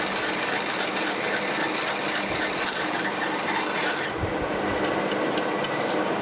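A metal lathe making intermediate cuts on internal acme threads, a steady dense mechanical whirr and chatter running throughout at close range, with a few sharper ticks near the end and no talk.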